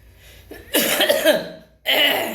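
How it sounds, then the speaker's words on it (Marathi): An older woman coughs up close, loud and alone: a first rough, wet burst followed by a brief pause and a second shorter cough. "चला सकाळपासून आज पहिला आलेला खोकला आहे"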